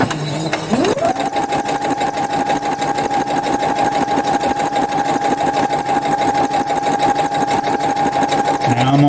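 A sewing machine stitches a welder's cap along a pin line, running at a steady fast pace for several seconds after a brief start-up, loud and close with its rapid mechanical chatter continuous to the end.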